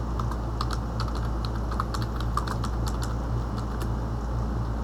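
Someone types steadily on a computer keyboard, with quick, close, irregular keystrokes and no voices.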